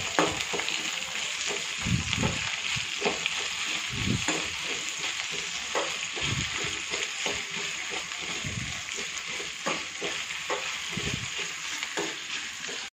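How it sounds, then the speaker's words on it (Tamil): Okra frying in oil in a pan for sambar, a steady close sizzle and crackle with periodic scraping and stirring strokes throughout, with no talk. "வெண்டைக்காயை தனியாக ஃப்ரை பண்ணி எடுத்து வச்சுட்டு"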